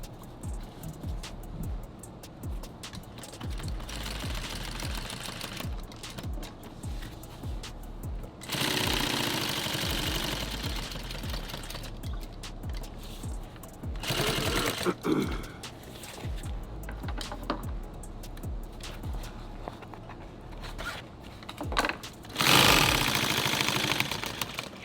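Sewing machine stitching a tool tote, rapid mechanical clatter running in long bursts with short pauses between them, close and steady, with occasional handling noises.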